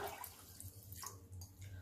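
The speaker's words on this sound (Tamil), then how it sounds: "இதால் 6 டம்ளர் தண்ணி அதில் குக்கரில் விடுறேன்." Water pours steadily into a pressure cooker with rice and lentils for pongal, giving a faint, continuous splashing and gurgling stream.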